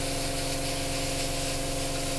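An airbrush sprays paint onto a Tamiya 1/35 M1A1 Abrams model tank, a steady, even hiss of air with a faint tonal hum from the compressor running underneath, unbroken throughout.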